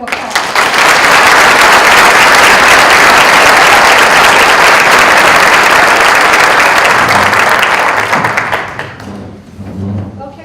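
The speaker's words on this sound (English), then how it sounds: "Nice round of applause." An audience at a League of Women Voters congressional candidate forum gives a loud round of applause, dense and sustained clapping that fades out near the end, leaving quieter room sounds and a few stray claps.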